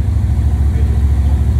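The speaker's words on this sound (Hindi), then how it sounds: "आवाज़ तो भाई ये है कीवे की बाइक" A Keeway motorcycle engine idling, a steady low throbbing rumble with a fast even pulse, loud and close, lasting under two seconds with no talking.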